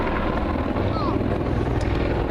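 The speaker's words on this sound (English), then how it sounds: "the 10-ton helicopter can be flown back over its right shoulder through 360 degrees." A 10-ton attack helicopter performs a back-over-the-shoulder 360-degree manoeuvre at the Duxford Air Festival 2017, its rotors and engines making a loud, steady, close roar throughout.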